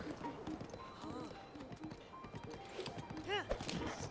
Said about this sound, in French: D'ailleurs, c'est le premier cheval que j'ai attrapé là.